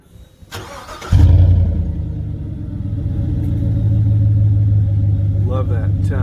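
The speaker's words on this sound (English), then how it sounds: "Also added some aftermarket exhaust from MBRP. In fact, I'll turn it on here for you and let you take a listen to it." A GM truck with a 3.5-inch suspension lift and an aftermarket MBRP exhaust fires up, then settles into a loud, deep, steady rumbling idle up close; a voice is briefly heard near the start.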